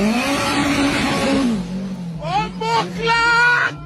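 A Honda K-swap engine revs up, a steady engine tone giving way to sharp rising sweeps as it climbs toward the high-lift cam, loud and close.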